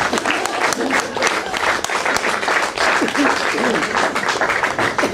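Sustained audience applause at an open mic night fills the whole stretch, a dense wash of clapping with a few voices mixed in.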